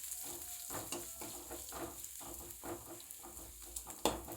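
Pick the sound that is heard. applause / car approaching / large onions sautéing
large onions sautéing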